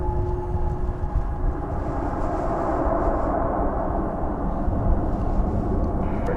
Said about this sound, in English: Arriving now from Denver is this American Airlines Airbus A319.